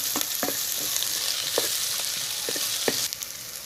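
Curry leaves and garlic crackling in hot oil for an anchovy fish curry, a steady sizzle with scattered sharp pops and light stirring clicks, no talking.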